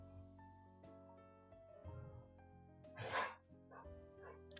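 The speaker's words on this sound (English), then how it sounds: "It's my dogs wrestling because they're now in here with me." Dogs tussle playfully indoors, giving scattered short yips and barks, snuffles and scuffling over a low hum. Sharp bursts stand out amid quieter rustling, all faint and close.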